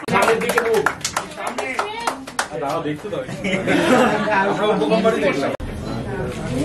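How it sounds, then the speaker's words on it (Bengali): An audience claps loudly and continuously at a film poster launch for a Bengali horror movie, with chatter and light laughter mixed in and a voice speaking over the applause. "একটা জোরে হাততালি হয়ে যাক।"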